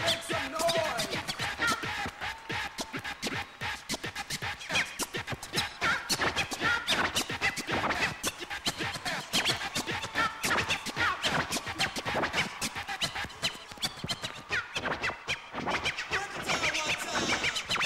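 DJ scratching on turntables at a 1990 Swedish TV broadcast from Eskilstuna Parken Zoo: dense, rapid, raspy scratch strokes that repeat rhythmically and continuously, loud and up close throughout.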